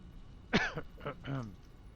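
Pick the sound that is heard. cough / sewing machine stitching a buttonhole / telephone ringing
cough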